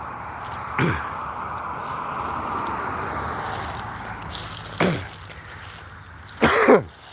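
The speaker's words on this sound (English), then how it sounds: "I don't know why I'm coughing." A few separate coughs and throat clearings, close by, spaced out over a steady low hum of traffic-like background noise.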